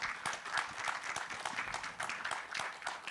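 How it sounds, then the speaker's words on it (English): Audience applause for panelists at an energy transition forum on strategic minerals, a steady wash of many hands clapping at moderate level, fairly close and continuous, with no voices over it. "Can we please give them a round of applause, everyone?"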